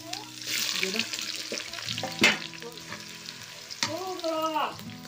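Garlic and onion sizzle and fry in hot oil in a pan with stirring and clattering, while a voice speaks softly in Hindi in the background.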